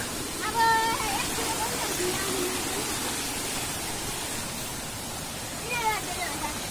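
Steady rushing water of an unnamed stream, a continuous broadband hiss at moderate level with a few faint bird chirps over it.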